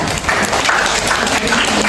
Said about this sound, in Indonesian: Tepuk dia teman-teman.